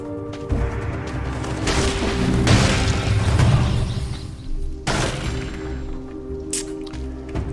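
A grenade explosion in the video game Dead Cells, a dense booming, squishy burst that swells and fades, followed by a sharper pop and game effects, with no talk.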